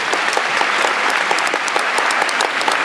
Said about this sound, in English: Give Lyndon a big round of applause.